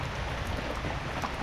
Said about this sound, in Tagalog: Malakas na pa yung ulan.